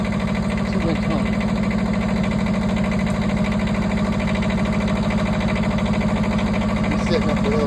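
The engine on a Wood-Mizer LT15 Wide sawmill runs at a constant idle, a loud, close, evenly pulsing drone with a steady mechanical throb that never changes pace, while people talk over it.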